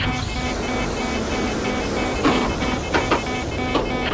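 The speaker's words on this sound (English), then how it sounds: "That's an engine failure." A failing aircraft engine in the VR survival game Survivorman drones steadily, broken by a few sharp mechanical clanks and sputters toward the end.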